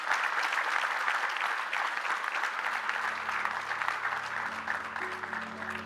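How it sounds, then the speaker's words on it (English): An audience at an investment forum panel session gives the panelists a big round of applause, with a full, sustained wash of clapping that holds steady throughout while a faint voice murmurs beneath it. "Please give them a very big round of applause."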